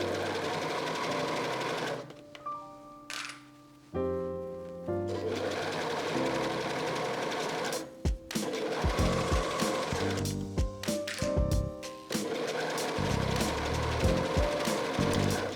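A sewing machine stitches a cardigan seam from the bottom hem up to the center back, running in steady bursts with brief stops and restarts, close and fairly loud, with no talking.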